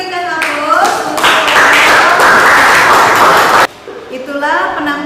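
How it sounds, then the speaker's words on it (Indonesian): Clapping from an audience after a group's class presentation, a dense burst of many hands that swells and then stops abruptly, with a voice speaking over it at the start and end. "Kita berikan aplaus untuk"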